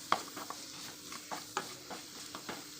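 A spoon stirs capsicum and pea curry in a pan, giving soft scraping strokes and light clicks at an irregular rhythm over a faint sizzle of oil, quiet and close.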